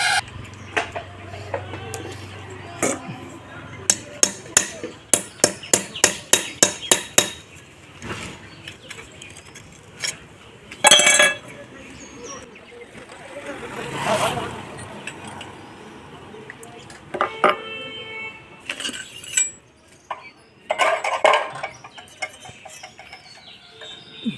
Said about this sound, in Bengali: এলাঙ্কি রেঞ্জ দিয়ে আমরা এই এলাঙ্কিটাকে খুলে ফেলবো।